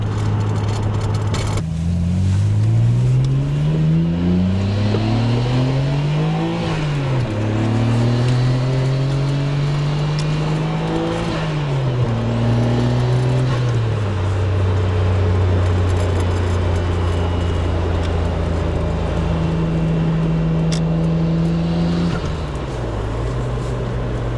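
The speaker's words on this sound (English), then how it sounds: "if you guys heard all that whooshing and yeah, it's definitely boosting pretty well" A Nissan Skyline GT-R R32 with a mild tune is driven hard, its turbocharged engine rising and falling through repeated revs and gear changes at close range, with boost whooshing under the drone.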